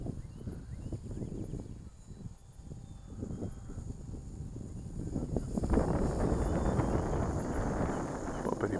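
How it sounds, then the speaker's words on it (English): Steady wind buffeting a camera microphone outdoors while a JJRC W01 J3 Piper Cub RC plane flies, a continuous low rumble that swells louder and denser in the second half. "You're probably hearing that wind."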